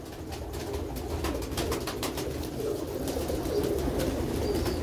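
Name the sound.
pigeons cooing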